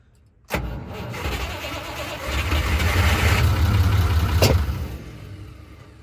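A Unimog truck engine catches with a sharp start at about half a second, then runs steadily and builds to a louder, rougher idle. A brief crack near the end may be a small backfire before the engine settles lower.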